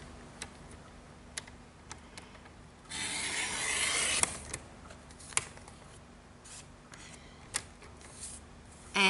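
A paper trimmer slicing card to a 1.5-inch width: a soft rubbing, rasping glide lasting a few seconds, framed by scattered small ticks and clicks, quiet and close.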